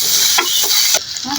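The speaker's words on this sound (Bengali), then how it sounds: "তেল দিয়ে মুরগির মাংসগুলো ভালো করে ভেজে নিব।" Chicken pieces frying in oil, a loud, constant sizzle with a few scraping stirs of a spatula, close up and without voices.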